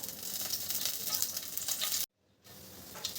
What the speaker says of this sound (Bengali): এখানে আমি গোটা জিরে ফোড়ন দিলাম